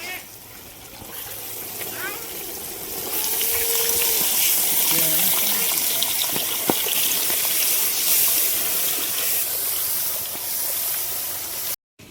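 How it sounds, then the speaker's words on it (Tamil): Tamarind water poured into a simmering fish curry during outdoor village cooking, a broad, steady watery rush that swells after a few seconds and runs loud and close for most of the clip. "புளி தண்ணி ஊற்றிக்கலாம்"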